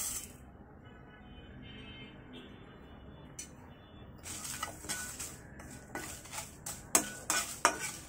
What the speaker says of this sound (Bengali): মশলাগুলোকে হালকা আছে কয়েক সেকেন্ড নেড়ে নিব।